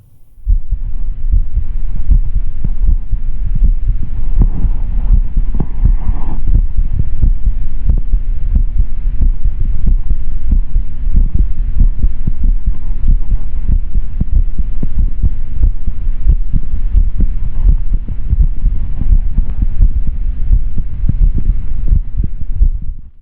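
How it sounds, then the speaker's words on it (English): A human heartbeat picked up through a cranked-up contact microphone thumps in a steady, regular rhythm over a low hum, close and throbbing for the whole stretch, with no voices. "So if I can get this jacked up enough, you can even get your heartbeat."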